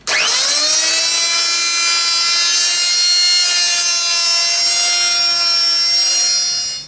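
A homemade cutting tool bites steadily into aluminium and plywood for a DIY foundry sand muller, giving a loud, continuous high whine with bright tonal harmonics that rises at the start and then holds steady, with no talk.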